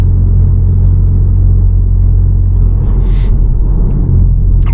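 A Volkswagen Golf R with an Integrated Engineering air intake drones inside the cabin as a loud, steady, low engine and road rumble, with a brief airy rush from the intake partway through.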